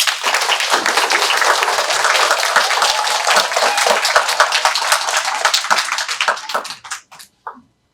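A crowd at a National Honor Society induction ceremony applauds the organizing committee with sustained, dense clapping that thins in the last seconds to a few scattered claps before stopping.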